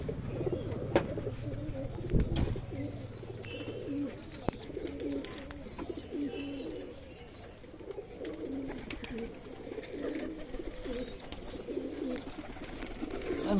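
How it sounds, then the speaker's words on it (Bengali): Domestic pigeons coo continuously in low, throaty rolling calls nearby, with a few sharp knocks and light rustling scattered through. No one speaks. "ডাকলেই বন্ধুরা পায়রাগুলো চলে আসবে"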